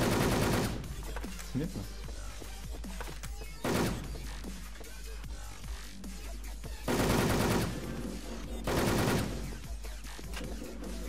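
Loud video-game gunfire while shooting wolves, in several heavy bursts separated by short gaps, with someone speaking briefly between them.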